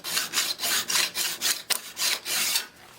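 Metal file stroking along the edge of a card scraper held in a jig, about nine rhythmic rasping passes back and forth, close and crisp, with no speech.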